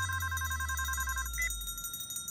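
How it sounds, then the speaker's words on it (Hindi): A mobile phone rings with a steady repeating electronic tone for about a second and a half, then a brief higher chirp as it cuts off, over a low background hum; no one speaks. "माँ का फोन आया, आवाज कहाँ से आ रही है?"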